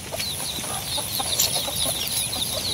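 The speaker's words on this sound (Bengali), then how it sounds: "মুরগে খাইতেছে" Chickens cluck steadily while feeding outdoors at a village homestead on a rainy day, with a constant hiss of rain or ambient noise around them and no voices.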